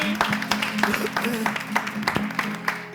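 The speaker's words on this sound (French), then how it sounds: "On va raccompagner Yannick avec des applaudissements bien nourris." Scattered audience clapping at a live talk show, sharp individual claps popping intermittently while voices keep talking over them.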